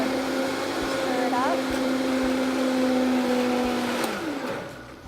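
Kitchen blender whirring steadily as it blends a dairy-free chocolate frosty, a close, loud motor hum that holds its pitch and then winds down near the end.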